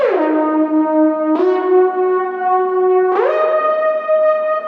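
A bright synthesizer lead plays a few sustained notes with gliding pitch bends, each tail washed in reverb, alone and clear.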